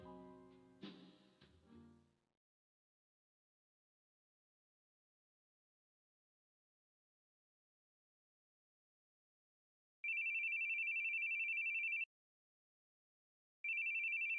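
A phone rings in The Boogie Man video game, two bursts of steady electronic ringing separated by a pause, following a few soft sounds before a long silence.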